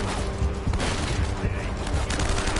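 Rapid bursts of gunfire crackle in Uncharted: Drake's Fortune, a quick run of overlapping shots through the stretch with a voice talking over them.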